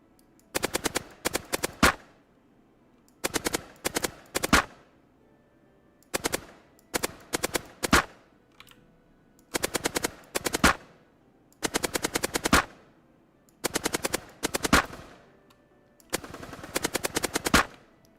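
Rapid bursts of automatic gunfire from a multi-launcher weapon in a self-made C++ first-person shooter game, firing in short clusters of shots separated by brief pauses, loud and close, with no voices.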